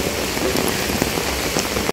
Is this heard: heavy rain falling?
yes